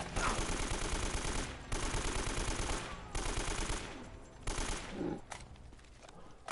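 Rapid automatic AK rifle fire from the video game Uncharted 1, several loud sustained bursts separated by brief pauses, close and dominant throughout.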